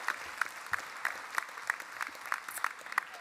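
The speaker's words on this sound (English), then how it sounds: "another round of applause for Olivia." Sparse, rhythmic clapping at a high school graduation ceremony, roughly three claps a second at a steady pace, fairly faint and distant with a light crowd murmur underneath.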